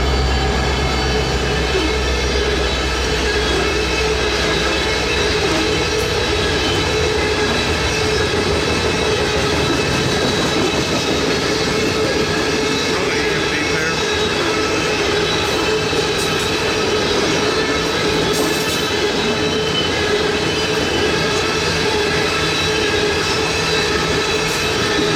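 A Norfolk Southern train, NS 233, rumbles past steadily for the whole stretch in the Shenandoah Valley, wheels clattering and a metallic hum throughout, fairly loud and close, no talking.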